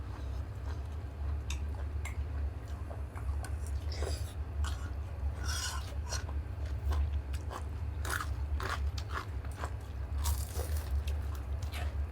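Crisp, crunchy chewing of crispy pork belly up close, with repeated bites and crackles over a low steady background hum, and no voices.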